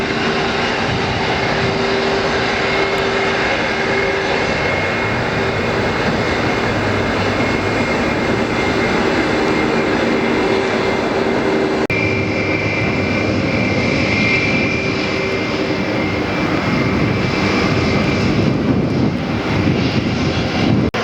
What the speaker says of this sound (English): We're going to have two 757s inbound.